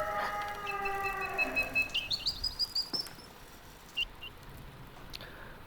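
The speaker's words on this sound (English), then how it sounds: "Mechanical bird." A mechanical toy bird in the game Ad Infinitum gives a descending whistle-like trill followed by a string of quick, evenly spaced chirps, then a couple of faint isolated tweets, close and fairly quiet.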